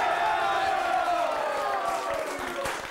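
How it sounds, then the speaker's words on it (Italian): A studio audience on an Italian variety show breaks into applause and cheering, a loud, dense crowd roar with whoops that holds steady throughout and tapers slightly at the end. "un applauso!"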